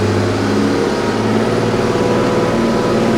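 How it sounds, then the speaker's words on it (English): An overhauled Allis Chalmers 210 tractor engine working hard while pulling a disc across a farm field, a loud, close, steady low rumbling drone with no pauses. "So this is probably about as hard as you want to work this tractor."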